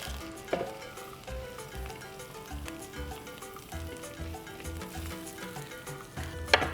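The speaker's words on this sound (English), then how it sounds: "Again, it's a wok, so this is cooking fast." Garlic and onions stir-fry quickly in a wok for a beef and sweet potato stir fry, giving a steady, close sizzle with occasional scraping stirs over a tonal background.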